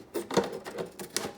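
Scissors cutting a plastic milk jug for a craft project, a run of crisp snipping and crunching clicks in a quick irregular rhythm, close and alone.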